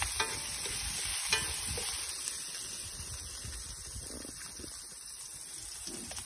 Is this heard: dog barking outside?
no